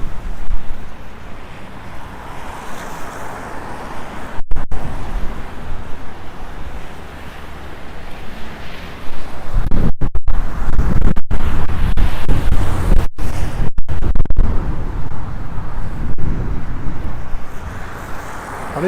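Strong wind buffets the microphone while walking downtown in snow, a steady roaring rush that swells louder in the second half, with a few brief dropouts.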